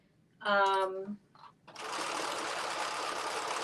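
A voice briefly, then a sewing machine hemming a Carmen top, running steadily and quickly up close with a fast even whir.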